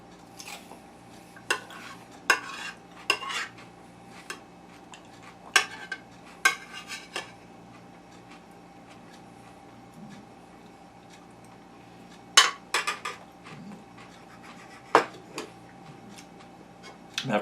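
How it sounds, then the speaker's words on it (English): A big spoon stirring macaroni, cheese and tuna in a pot, with intermittent sharp metallic clinks and scrapes spaced irregularly over a quiet background hum. "use the big spoon for the macaroni and cheese and tuna"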